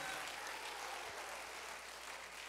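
A church congregation applauding, a steady wash of many hands clapping that holds at an even level throughout, with no clear voices on top.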